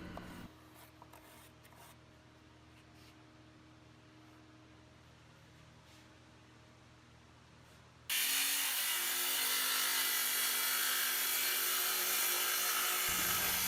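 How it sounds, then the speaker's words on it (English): A circular saw cuts wood for a garden bench. Quieter handling noises come first, then the saw starts abruptly and runs loud and steady for about five seconds before stopping. "I think the circular saw is the quickest way to get this cut out"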